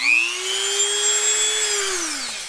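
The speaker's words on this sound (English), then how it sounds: "I'm gonna use my Dremel. I've got like an old sanding bit" A Dremel rotary tool fitted with an old, rough sanding bit whines steadily as it bores a hole, its motor pitch holding level for about two seconds before winding down near the end.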